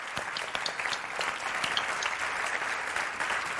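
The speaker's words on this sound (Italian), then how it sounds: "farei un applauso in ricordo di Michela Murgia" Steady audience applause held in memory of a writer during an Italian televised interview, a dense continuous patter of many hands at even loudness throughout.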